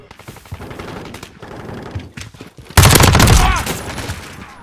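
MP5 submachine gun fired in the Call of Duty MWII beta, a loud sustained automatic burst breaking in after quieter game noise and continuing to the end.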